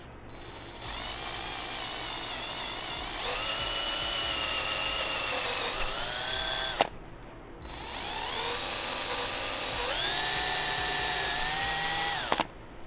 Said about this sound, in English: It looks like I'll be able to get them all with the drill.